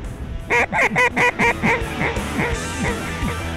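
A flock of ducks flying in over Alberta calls in a rapid burst of loud, repeated quacks and honks, then trails off into scattered, fainter calls.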